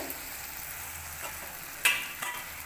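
Tomato and onion frying together in a pan, a steady close sizzle with a few sharper crackles and stirring scrapes, no voices.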